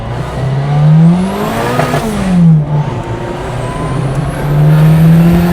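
A car driving through a tunnel with its engine revving, a loud sustained drone that rises and falls in pitch with reverberant echo, no voices over it.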